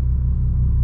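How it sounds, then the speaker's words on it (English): A daily-driven car's loud exhaust gives a steady, deep, throbbing rumble that runs throughout without letting up and carries no talking over it. "This car exhaust drives me to the point of insanity."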